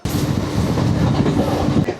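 A late-running passenger train travels on the line beyond Shantiniketan toward Sainthia, heard from onboard. Its continuous, loud, close rumble has a rhythmic clatter of wheels on rails, with no talk.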